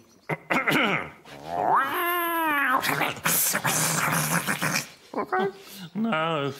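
Several drawn-out meows rise and fall close by, with a person talking in between.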